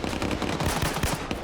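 Rapid bursts of gunfire in the military shooter Arma 3, dense overlapping shots packed into a loud, unbroken volley with no talking.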